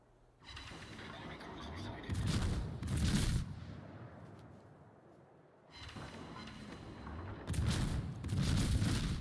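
Naval guns fire from a Seattle, a tier 9 American light cruiser, in World of Warships. Two pairs of heavy, rumbling salvo booms come a few seconds apart, with a low battle rumble between them.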